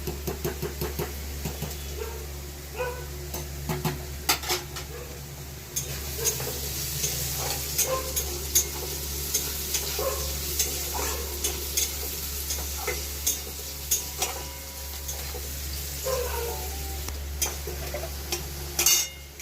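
Green beans frying in a pan for egg and prawn fried rice, a continuous sizzle with repeated clinks and scrapes of stirring throughout, close and steady, no voices.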